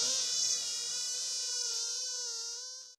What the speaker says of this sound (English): "Good night," buzzed the mosquitoes, dancing among the stars.